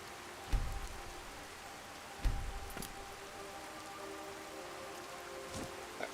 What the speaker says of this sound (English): Alright, so we're in the rain.